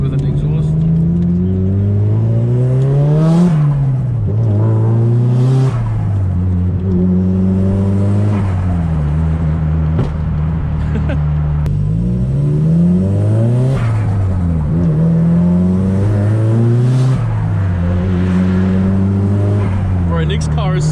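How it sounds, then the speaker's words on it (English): A Hyundai i30 fitted with an aftermarket exhaust, cruising alongside other cars, revs up repeatedly. The loud, close engine note rises and falls in several sweeping pulls over a constant rumble. "It's a random i30 with an exhaust."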